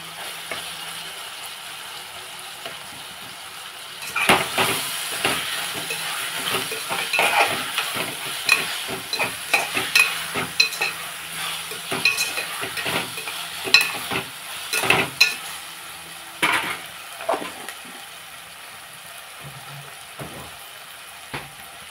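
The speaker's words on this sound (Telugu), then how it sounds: "ఇందులో కొంచెం అల్లం వెల్లుల్లి పేస్ట్ వేస్తున్నాను." Ginger garlic paste fries in a pan. After a few quiet seconds a close sizzle starts, broken by frequent scraping and clinking stir strokes in an uneven rhythm.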